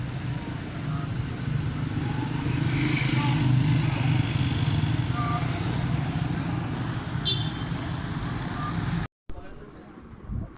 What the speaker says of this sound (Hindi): यहाँ से ट्रैफिक आ रही है और जा रही है।